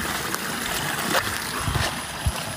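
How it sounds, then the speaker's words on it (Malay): Water flows in a forest with a steady broadband rush, broken by a few soft low thumps, and no one speaks. "Ni bunyi air bukan."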